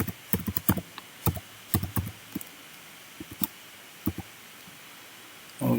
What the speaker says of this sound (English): we will type the password